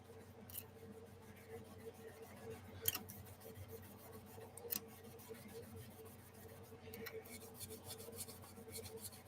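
Frets on a bajo quinto being cleaned with quiet, close rubbing and faint scratchy strokes over a low background hum, plus a few small ticks and taps.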